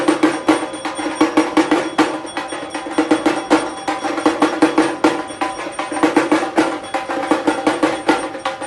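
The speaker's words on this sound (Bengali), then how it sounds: "আর এই যে পেছনে ঢাকের আওয়াজ শুনতে পাচ্ছেন" Dhak drums beaten during the Sandhi Puja on Durga Puja Ashtami morning, a loud, steady, fast rhythm of sharp strokes rolling on continuously with dense ringing overtones throughout.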